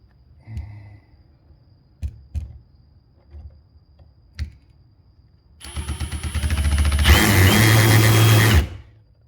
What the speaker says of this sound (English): Should be able to drill that really quick.